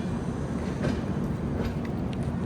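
Kota Etawah Express passenger train at a station, a steady low rumble of rolling wagons with faint wheel clatter, heard from nearby and without talk.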